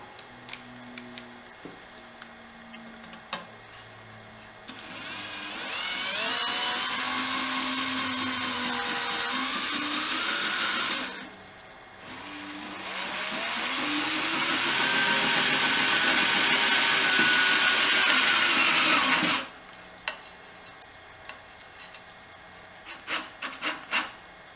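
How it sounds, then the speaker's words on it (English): A power driver spins self-tapping screws into the door frame of a 2021 Polaris Ranger UTV, with two sustained whirring runs of several seconds each and quiet handling noises before and after. "we are going to secure the upper frame to the bottom frame using a self-tapping screw that's going to go right in there"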